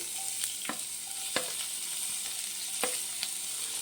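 Quiet, steady sizzling of onions and green chilies frying in a pan, with a few soft clicks and scrapes of stirring at intervals.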